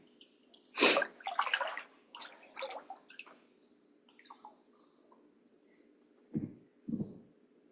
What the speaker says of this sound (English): And let's put our feet in the water.